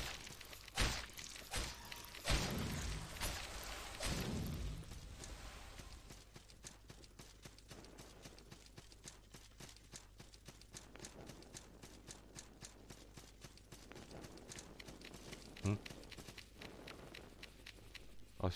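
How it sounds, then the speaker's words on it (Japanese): Four-legged creatures with human-like bodies patter across the ground in the dark fantasy game Salt and Sanctuary, a steady run of light, rapid footfalls at moderate distance, with a louder cluster of impacts near the start. "足音がするのは"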